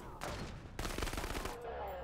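Shotgun blasts in the video game Krankenheit, two heavy loud bursts close together with a roaring decay, the second longer, over a low game ambience.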